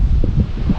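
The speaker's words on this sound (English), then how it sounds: "it's pretty misty, it's windy" Strong wind buffets the microphone in a steady low roar on a misty, windy coastline during a lure-fishing outing, loud and continuous throughout.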